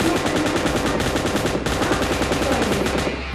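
Automatic gunfire in the battle royale game PUBG Lite, dense rapid-fire shots rattling continuously in long sustained bursts with a short break partway through.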